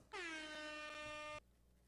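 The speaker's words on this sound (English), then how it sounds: "I played an air horn" A single loud, blaring air horn blast lasting over a second, brassy and harsh, then cutting off into quiet.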